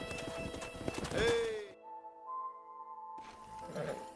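Horses in the Red Dead Redemption game, a loud neigh and clattering hooves up close, then a short quiet stretch with a sustained tone before the hoof clatter resumes.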